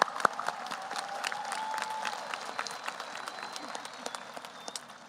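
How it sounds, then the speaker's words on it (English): A high school graduation crowd applauds parents and guardians in a large venue, a broad, sustained wash of clapping with scattered sharper claps and faint voices mixed in. "I want to give a hand to all the parents and guardians in the crowd right now"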